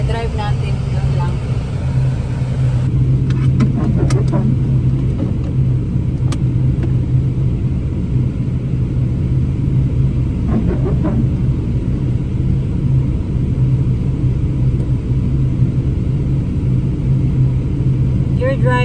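A car driving slowly through poor visibility on a UK road near home gives a steady, loud low engine and road rumble that holds throughout, with faint scattered clicks on top.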